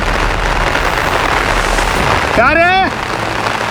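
Steady rain pours across a rain forest, a dense continuous hiss that runs throughout, with a brief voice speaking partway through.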